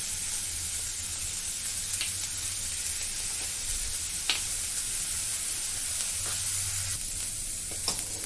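Food fries in a pan for a weight-loss salad, with a constant close sizzle and hiss broken by a few sharp clinks from stirring, and no voices.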